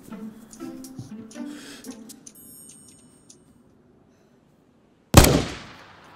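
Gunfire in DayZ: a single sharp, loud gunshot bursts out after a stretch of near silence and trails off in a reverberant decay, with faint clicks and movement sounds beforehand.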